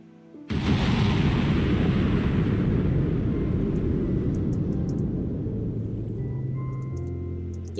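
A missile blast from a ship in modded Minecraft: an abrupt, massive boom that swells into a long, loud roaring rumble and slowly fades over several seconds, with a few faint tones near the end.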